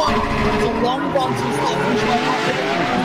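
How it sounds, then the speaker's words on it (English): Race car engines rev hard and build at the start of an iRacing sim event, a dense, loud, continuous roar of several cars with a commentator talking over it. "You can hear the revs in the background building."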